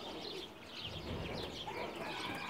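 Pigeon cooing among several fancy pigeons in a loft, kept by a breeder in Mecca, with steady soft coos and chirps over a continuous background hum, some faint voices nearby.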